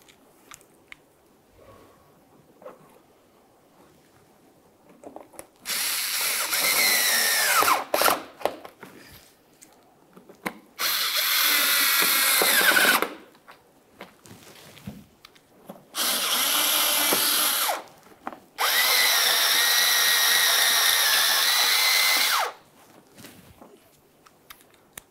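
A power drill drives the mounting bolts of a front inner fender liner on a 2006-2012 Ford Fusion, whirring in four close, loud bursts separated by quieter pauses with small clicks and handling noises.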